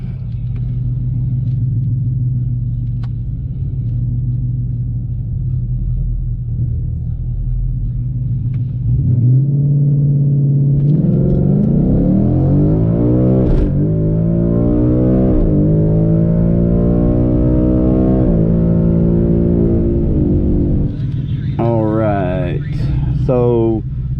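A 2020 Ford Mustang GT with a Coyote V8 sits idling with a deep rumble, then launches down a drag strip, its engine roaring loudly through rising revs and repeated gear shifts as the pitch climbs and resets, while someone speaks over it.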